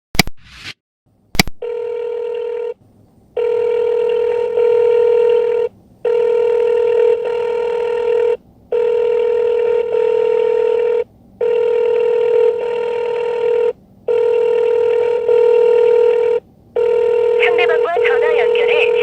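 Telephone ringback tone from a call to a customer through a Korean designated-driver dispatch app, repeating in steady on-off bursts for several cycles before the connection fails, loud and clear with no talking over it.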